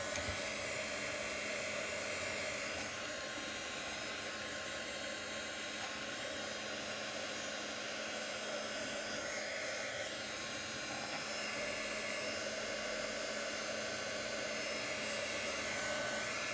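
Heat gun blowing over an art journal page, a steady, continuous whooshing hum of hot air that holds at an even, moderate level throughout.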